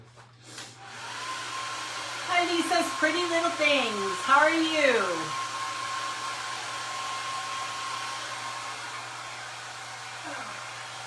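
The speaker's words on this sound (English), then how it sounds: "So the hair dryer is so stuck with paint right now, it isn't funny." A hair dryer blows steadily to dry paint on a Dollar Tree jar, a constant close whir running throughout while someone talks over it.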